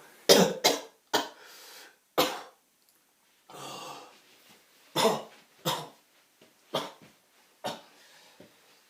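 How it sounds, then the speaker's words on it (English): Several sharp, forceful coughs in separate bursts, close by, with short quiet gaps between them and no talking. "yes, that was a real cough"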